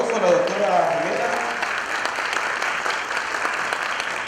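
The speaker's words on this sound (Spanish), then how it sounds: "Despedimos con un fuerte aplauso a la doctora Rivera." Seminar audience applauding a departing speaker, Dr. Rivera, at an academic event on scientific journals; steady clapping runs throughout, with a voice briefly audible at the start.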